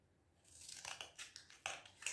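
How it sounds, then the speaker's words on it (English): Scissors snip through a flattened cardboard tube at a children's craft table, a run of sharp, close cuts with crisp crunching edges, each stroke short and separate. "I flatten it on the lines, and I take my scissors"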